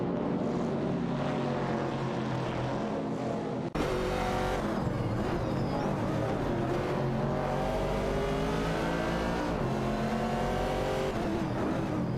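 Race car engines roar continuously in a racing video game, Ford Falcons and a 1969 Chevrolet Camaro among the field, with layered revving and pitch sweeps as cars pass, loud and unbroken apart from a brief cut near four seconds.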